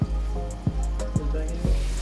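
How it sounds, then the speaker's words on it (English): Meat seasoned with salt, pepper and garlic sizzles steadily in a hot pan, a constant crackling fry with a few soft pops and clinks at regular intervals. "All you see now is just the salt and pepper and the garlic cooking, getting into the meat."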